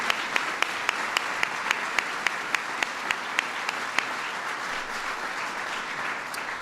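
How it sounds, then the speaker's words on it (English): Steady applause from an audience at a White House LGBT Pride Month celebration, a dense, even wash of many hands clapping, moderately loud with a few sharper claps standing out, and no talk over it. "So give Lawrence a big round of applause."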